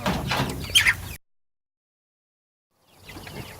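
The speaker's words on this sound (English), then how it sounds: "There are chickens everywhere." Chickens cluck and chirp close by for about a second, with a brief loud burst of calls, then the sound cuts to silence before faint farmyard noise returns.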